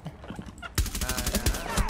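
Rapid gunfire exchange in Rainbow Six Siege, a burst of repeated shots starting partway through and continuing densely to the end, loud and close, with faint talk beforehand.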